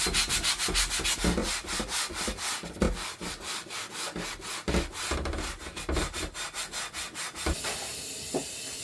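Rhythmic back-and-forth scrubbing of a rusty, greasy cast iron griddle using the pink stuff cleaning paste, with steady, abrasive strokes repeated close up.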